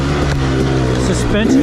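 A 2016 KTM 300 XC two-stroke dirt bike engine drones steadily up close, its buzzing tone wavering slightly, while someone speaks briefly over it.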